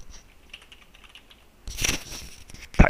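Keys clatter on a computer keyboard as a web address is typed: a quiet lead-in, then a close, busy burst of keystrokes from about halfway through, ending in a sharper, louder key press.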